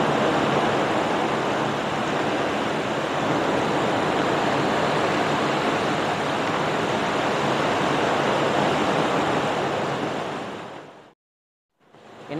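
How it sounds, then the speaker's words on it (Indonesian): Water from a hose or can steadily soaks potted aglaonema plants and their chopped bulb cuttings, a continuous close splashing hiss that runs evenly for about eleven seconds before stopping abruptly. "Ini contohnya kita siram semua."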